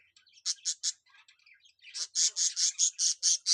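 Budgerigar birds chirping, a quick series of sharp bright chirps, three at first and then a longer fast run, fairly close and with no talk.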